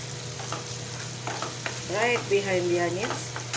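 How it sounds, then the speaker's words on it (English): Onions frying in a pan with ginger and garlic for a soya paneer manchurian, a steady sizzle with scraping stir strokes, up close, joined midway by a voice. "So now I dropped in the onions"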